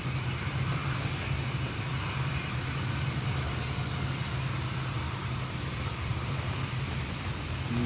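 An EasyJet airliner arriving to land at Manchester Airport in windy conditions, heard as a steady, broad roar of jet engines mixed with wind buffeting, constant and fairly loud throughout with no talking.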